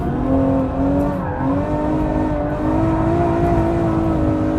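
A Ferrari pulling hard in fourth gear at full throttle, its engine note loud and steady, rising in pitch from start to finish with no gaps.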